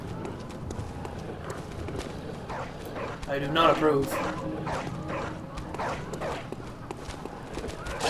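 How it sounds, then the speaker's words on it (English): In the video game Bloodborne, a pack of dogs barks and pads along in a rapid scramble of footfalls that swells briefly louder midway, with someone talking over it. "Yeah, these dogs sound like they're free."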